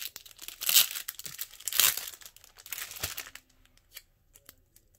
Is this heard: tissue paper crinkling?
yes